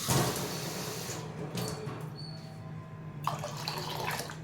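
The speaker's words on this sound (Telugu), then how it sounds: "ఒకదా ఒకటికి రెండు బావు నీళ్ళు పోస్తానండి నేను కందిపప్పుకి" Two measures of water are poured over toor dal in a vessel for Madras sambar, a steady close splashing rush with short breaks and a final burst of pouring near the end, with no speech.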